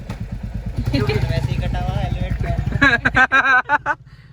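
A motorcycle engine putters steadily at close range, its low rhythmic thrum running under continuous talking voices.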